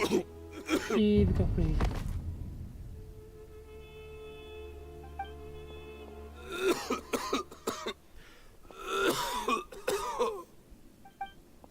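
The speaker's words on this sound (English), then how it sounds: "Why is he coughing so much?" A man coughs hoarsely near the start in Genshin Impact, followed by a sustained musical drone, then more raspy coughing and groaning bursts over the music.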